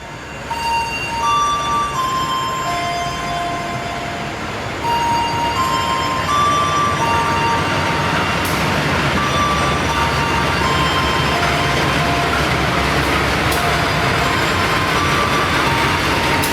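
The Pandalungan passenger train, hauled by a CC201 locomotive, arrives at Madiun station with a steady rumbling roll, tonal squeals and ringing tones rising over it, and a brief sharp hiss partway through.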